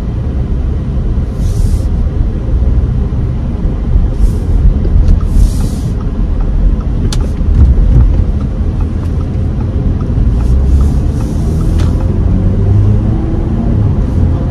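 A 2023 Audi Q5 cruises on the road, heard from inside as a steady low tire and engine rumble with a constant hum, loud and continuous throughout.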